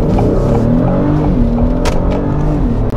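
2022 Acura MDX Type S SUV with all-wheel drive accelerating hard in sport mode from inside the cabin, a loud steady engine drone climbing in pitch with quick gear shifts and no talking.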